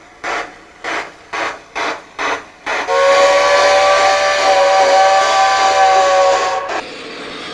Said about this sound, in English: You actually hear locomotive sound being generated from this box here, so it's completely controllable.